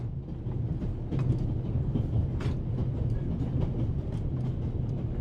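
Train ride in the video game The Raven Remastered: a low continuous rumble of rolling carriages with faint rhythmic clacks and occasional rattles, steady throughout and without speech.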